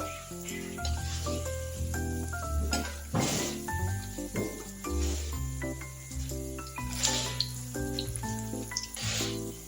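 Milk taro pitha cakes frying in hot oil, a continuous close bubbling sizzle with occasional louder crackling bursts, with no talk over it.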